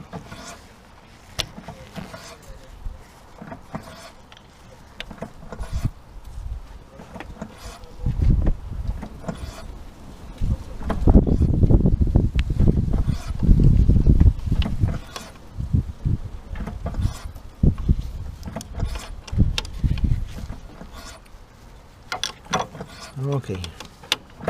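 The ABS pump of a 2005 Opel Astra 1.4i is worked by hand, giving repeated mechanical clicks, creaks and squelching strokes that swell in the middle, with a person speaking at times.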